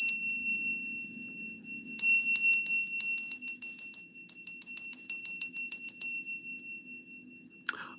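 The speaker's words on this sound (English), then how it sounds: "Somebody told me that the bell is kind of loud." A loud bell rings in rapid clusters of bright metallic strikes with long sustained tones, then breaks off before a short clatter at the end, with no talking.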